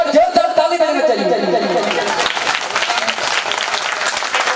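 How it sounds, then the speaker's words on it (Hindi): A crowd at a Navratri bhajan gathering breaks into loud clapping as a voice trails off at the start, then many hands keep applauding with murmured chatter mixed underneath. "एक बार जोर जोर ताली देना चाहिए"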